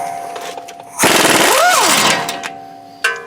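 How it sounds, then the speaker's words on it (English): A single close, loud burst from an impact wrench running a coilover nut off the front suspension of a fifth-gen Chevrolet Camaro with BC Racing adjustable coilovers, a rapid hammering rattle lasting about a second and a half before tapering off, with a short clank after. "Okay, now that it's cracked loose, I'm gonna go ahead and impact this"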